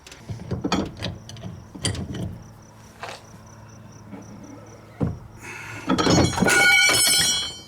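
A clamp or vise is tightened up close, with a series of clicking, ratcheting mechanical knocks and thunks, followed by a louder grinding squeal near the end.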